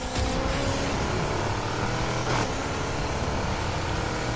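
Chevrolet Bel Air accelerating, a loud continuous engine roar with rising revs and a brief surge midway, heard close up from the car, with no talking.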